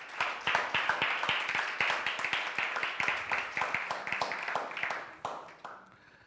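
A church congregation claps, loud and rhythmic, hands striking together in a steady beat before thinning out and fading near the end.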